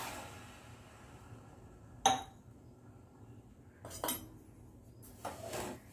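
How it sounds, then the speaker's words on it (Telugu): A pot is set down with a sharp metallic clink, followed by a few softer clatters and scrapes as sugar goes in for a syrup in a home kitchen making sweet onions; quiet and close, with no talking. "షుగర్ సిరప్కి మనం ఒక గిన్నె పెట్టేసుకుని దానిలోకి మనం తీసుకున్న షుగర్ వేసేసుకుందాం"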